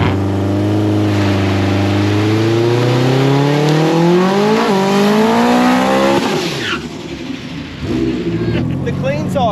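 Lexus IS200 engine revving hard on a dyno, loud and close, climbing steadily in pitch for about six seconds before cutting off abruptly, with voices and shop noise afterward.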